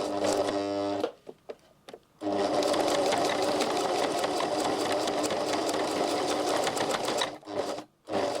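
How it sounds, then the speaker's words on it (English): A sewing machine stitches across a zipper pocket with thick topstitching thread, running in steady loud bursts with a couple of short pauses between runs. "you want to sew across here so that this is tightly in place"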